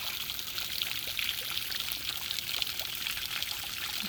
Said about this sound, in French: Ce bruit d'eau qui calme, qui apaise.